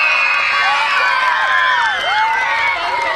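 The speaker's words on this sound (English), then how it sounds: "let's cheer for Mrs." A crowd at a school's teacher of the year celebration cheers and shouts loudly, with children's high voices whooping and calling out continuously, close by.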